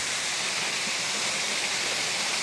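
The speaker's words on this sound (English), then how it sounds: "let me get near this waterfall" A steady, dense rush of a waterfall on a creek in Central Park, New York City, roars continuously, close by and loud, with no voices.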